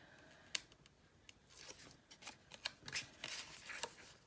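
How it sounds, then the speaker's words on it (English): Sticky tape peeled off a small mini-album paper page in a quiet room, a series of short crackling rips and tugs spread over a few seconds, close and fairly soft with no talking. "pull off the tape"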